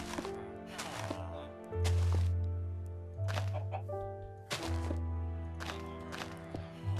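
Chickens clucking in the block-building game Minecraft, short repeated clucks at moderate distance over a steady low hum, with quiet thunks between them.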